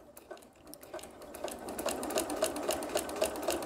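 A sewing machine stitches X shapes across a fabric bowl cozy with batting inside, a steady, rapid mechanical chatter that starts softly and grows louder, with even, regular stitch pulses close by.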